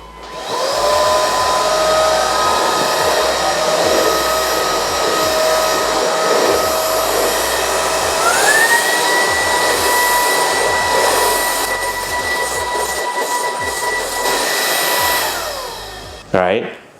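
Loud, steady whine of an ORFELD EV696 Pro cordless stick vacuum running close by, its motor pitch climbing to a higher mode partway through, then holding before a clunk as it stops.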